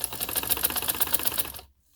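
A sewing machine stitches fabric for a designer shalwar in a fast, even mechanical clatter of rapid needle strokes, close and loud, stopping abruptly near the end.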